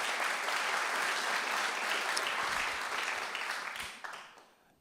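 Audience applause at an evening talk on agriculture, a dense steady clapping from a room full of people that holds for several seconds and then thins and fades out toward the end.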